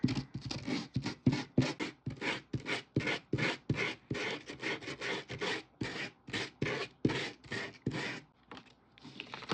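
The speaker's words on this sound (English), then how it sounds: "I'm gonna use my sandpaper and just go over the edges just a little bit." Sandpaper rubbed over the edges of an embossed paper card, a fast series of short, close, raspy scratching strokes in a steady rhythm, with no speech.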